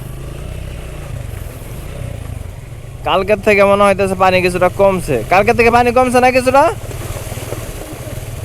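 A motorbike rides along a rough, brick-chip road through floodwater in Noakhali, its low engine drone and wind rumble running continuously. Someone speaks over it through the middle of the ride.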